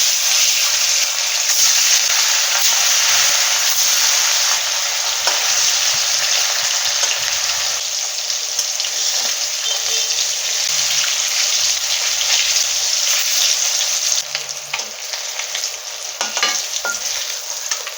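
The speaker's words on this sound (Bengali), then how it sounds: "তেলটা গরম হয়ে গেছে মাছগুলো ভেজে নেব" Fish frying in hot salted mustard oil in a kadai, a loud, dense, unbroken sizzle held close throughout, with faint scrapes near the end.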